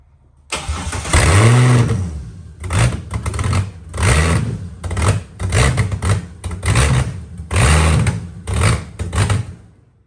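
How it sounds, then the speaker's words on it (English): A Ford XR6 Turbo with a Barra engine cranks loudly on the first key turn, its starter whirring in a rapid series of repeated bursts with short pauses between attempts, close up and with no voices over it. "Here goes, first turn of the key."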